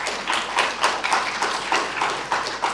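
An audience at a university debate on the existence of God claps in a regular, rhythmic applause that swells and dips slightly, fairly close and steady throughout.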